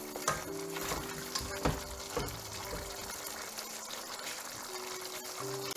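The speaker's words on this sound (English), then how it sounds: "Saute this well." Sizzling and hissing from a hot pan as mutton with garam masala is sautéed for biryani, with intermittent clinks and scrapes of stirring, continuous over several seconds.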